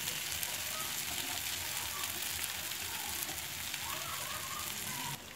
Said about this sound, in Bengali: এখানে আলু ফুলকপিটা খুব সুন্দরভাবে কষানো হয়ে গেছে, তেল ছাড়তে লেগে গেছে